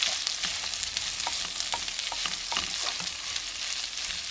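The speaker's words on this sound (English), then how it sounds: "Then stir that up." Leftover food sizzles steadily in a frying pan while a utensil stirs it with light, scattered scrapes and taps. The sound is close and there is no talk.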